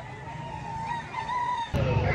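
A gamecock at a roadside sale in Lipa City, Batangas, gives a drawn-out crow and clucks, with a sudden louder burst of noise near the end and faint voices in the background.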